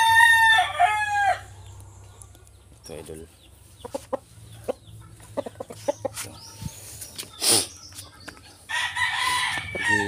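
A rooster crows at the start, with chicken clucks and scattered noises after and a voice speaking briefly.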